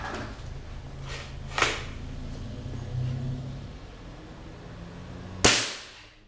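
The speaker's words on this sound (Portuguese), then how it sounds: "Segundo tiro, como eu havia falado, é o efeito diesel, já deu 1050." A CBC F18 air rifle fitted with a gas ram kit fires with a sharp, loud crack near the end, following a steady low hum and a fainter earlier snap, the diesel-effect shot standing out alone without talk.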